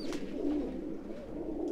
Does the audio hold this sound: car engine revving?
no